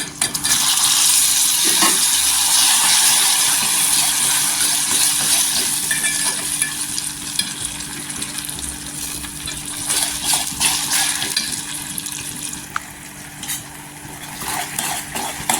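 Karvand berries sautéed with jaggery in oil in a pan, a bright continuous sizzle broken by scraping and clinks of a spoon stirring against the metal, loud and close.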